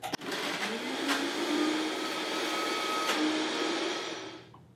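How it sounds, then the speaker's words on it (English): A blender whirs loudly and steadily for several seconds blending soaked dates, its motor drone close and continuous before winding down at the end. "just turn the blender on, blend those up until they're nice and smooth"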